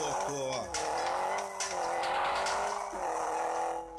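Rally car engine in the racing game Rally Fury revs and shifts through rising and falling tones with tire squeal on a desert track, while someone talks over it.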